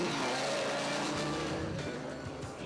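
A Toyota Hilux off-road racing truck at the Sun City 400 rally is flagged away, its engine a steady distant drone that slowly rises and fades, with no one speaking.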